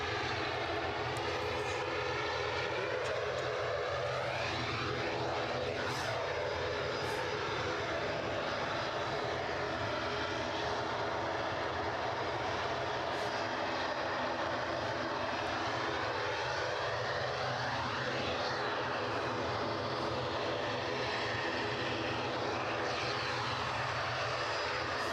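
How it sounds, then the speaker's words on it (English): A Bombardier Challenger business jet bound for Madrid takes off at Edinburgh Airport, its engine roar a steady, moderately distant wash that swells and fades over about twenty-five seconds with no voices. "The Madrid-bound Bombardier Challenger."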